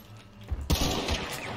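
Gunfire in the video game Hunt: Showdown: a couple of sharp, close shots crack in quick succession, followed by a brief ringing tail.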